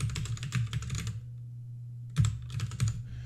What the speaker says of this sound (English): Let's type in the credentials again.